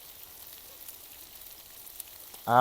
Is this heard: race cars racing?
no